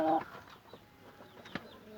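Two feather-legged Aseel roosters in a pen make a brief call at the start followed by soft, scattered clucks and faint rustling over about two seconds.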